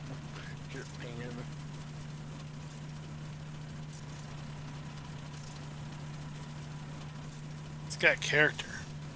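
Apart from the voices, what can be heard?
John Deere tractor engine idling in a farming video game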